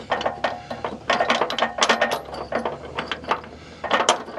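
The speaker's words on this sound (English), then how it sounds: "we're just going to use our ratchet here and run these body bolts down" Ratchet running down the body bolts on a Jeep Gladiator during a rock slider step install, a close, loud series of rapid clicking bursts with short pauses between strokes.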